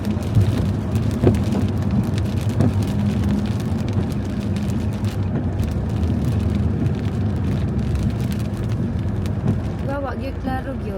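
Heavy rain pours down steadily with dense patter throughout, a low rumble underneath and a few brief voices near the end.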